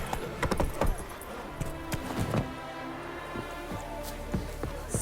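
Roach the horse gallops across terrain in The Witcher 3 video game, steady clip-clop hoofbeats repeating at a brisk pace, fairly close but moderate in level, with no talk over them.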